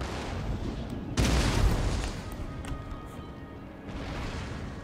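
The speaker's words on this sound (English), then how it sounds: "Excellent artillery cannon shot there." Artillery cannon fire in the Empire Total War strategy game: a heavy boom lands about a second in and rolls away, while a constant rumble of battle noise carries underneath the whole stretch.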